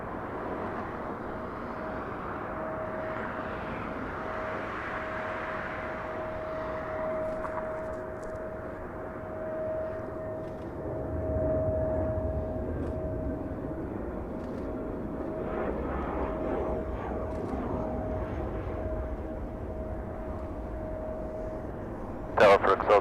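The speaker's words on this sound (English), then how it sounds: "Air Tahiti Nui making the left onto taxiway Kilo" An Air Tahiti Nui airliner taxis at LAX, a steady distant engine whine and low rumble holding for the whole stretch, swelling slightly midway.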